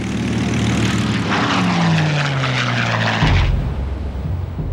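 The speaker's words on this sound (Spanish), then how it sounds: "volar en aviones anticuados" Old propeller-driven military airplanes drone loudly overhead, their engine pitch sliding steadily downward as they pass, then settling into a lower rumble.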